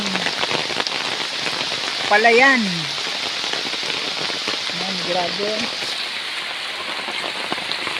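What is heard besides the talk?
heavy rain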